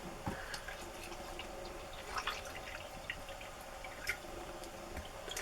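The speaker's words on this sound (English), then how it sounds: "First, let's go ahead and fill the water reservoir on here." Water is poured into the reservoir of an INNOPAW automatic steam cap cleaning machine, a steady trickling splash with scattered drips and small splashes, close and moderately quiet.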